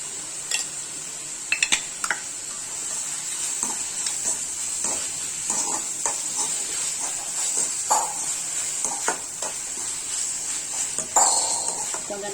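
Onions with ginger garlic paste sauté in a pan for an egg keema, giving a steady bright sizzle with scattered spatula scrapes and clinks against the pan, close and continuous, with no talk.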